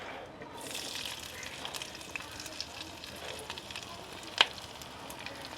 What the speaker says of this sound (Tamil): இப்போ இதுக்குள்ளே வந்து நாங்கள் இந்த பெருசாக வெட்டி வச்சுருக்கிற வெங்காயம் இதை தான் போட போகிறோம் முதல்ல.